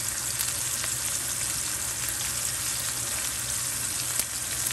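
Fresh thyme sprigs sizzle in hot frying oil alongside a pan-fried steak, a loud, steady, close crackle of frying that holds unbroken with no talking.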